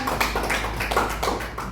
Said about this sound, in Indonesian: Semua tepuk tangan dulu, tepuk tangan